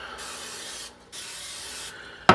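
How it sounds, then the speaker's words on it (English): Butter-flavored cooking spray hisses from a can in two steady bursts separated by a short pause, then a brief louder clatter at the end; no talking. "So just spraying them with some butter flavored cookie spray."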